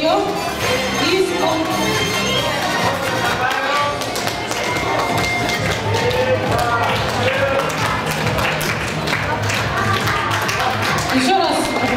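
Schoolchildren and families at a primary-school farewell ceremony give graduates a continuous round of brisk clapping and tapping, mixed with crowd chatter and voices throughout.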